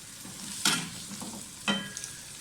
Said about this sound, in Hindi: सब्जियां फ्राई हो जाएं तो निकाल लें इनको।